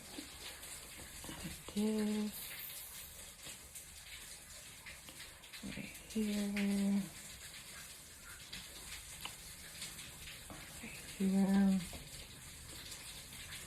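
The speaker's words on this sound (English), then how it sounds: "And excuse the rain because clearly New York is very confused." Rain falls outside in New York in spring, a steady soft hiss running throughout, with someone speaking briefly over it a few times.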